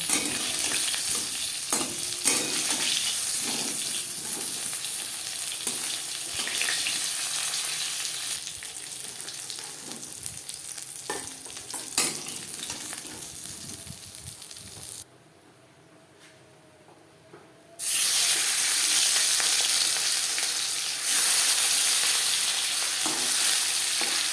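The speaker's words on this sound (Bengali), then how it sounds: "পরের মাছ একইভাবে ভেজে নেব" Rohu fish sizzles continuously in hot oil with intermittent scraping and clinks, a brief near-silent pause, then loud sizzling resumes.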